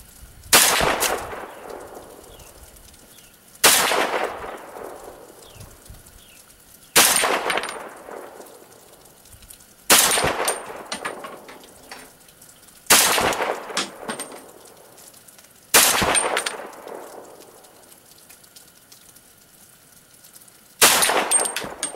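A 300 AAC Blackout rifle fires seven sharp, loud gunshots at an outdoor range, spaced about three seconds apart, each followed by a ringing decay.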